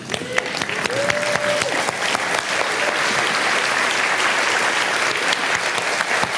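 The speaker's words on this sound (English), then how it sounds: "The way we do that is by standing up and giving them a massive round of applause" A standing audience gives an enthusiastic welcoming ovation to a speaker at a business marketing event, loud sustained clapping with cheers, a short musical tone sounding early, building into a steady roar.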